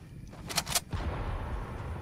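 Two sharp, bright gunshots from a new gun in Fortnite, fired in quick succession, followed by a low rumbling tail and steady game background noise.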